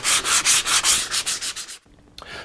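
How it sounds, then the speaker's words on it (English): Sanding a wooden rocking horse by hand, a quick rhythm of about a dozen close, loud rasping strokes, then a pause and a faint scrape. "Let's continue sanding on this guy."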